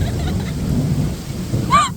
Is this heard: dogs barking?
no